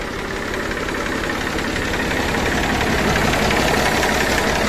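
A Massey Ferguson 1035 DI tractor's diesel engine runs steadily at idle, close and loud, with a continuous knocking rumble and no voices.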